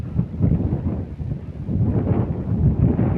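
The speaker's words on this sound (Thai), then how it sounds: "ลมครับพี่น้อง ลมแห้งแห้งครับ ลมอย่างแห้งเลย" Strong dry wind gusts at the Khao Phaeng Ma wildlife conservation area in Wang Nam Khiao, producing a loud, continuous, rumbling buffet against the microphone for the whole stretch, with no speech.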